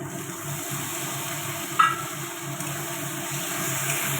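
Spices with ground cumin, turmeric and chili powder sautéing in a pan for paneer curry, a steady close sizzle with faint stirring scrapes and one brief clink.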